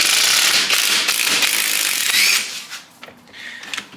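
A ratchet works on the engine of a Daihatsu mini truck during teardown, giving fast, dense clicking for a couple of seconds, then sparser, quieter clicks and taps, close up with no voices.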